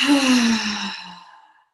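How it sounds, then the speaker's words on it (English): A single deep breath drawn in and let out as a long, audible sigh, close and clear, tapering away into silence during a guided breathing exercise. "let's just take a deep, deep breath in and exhale"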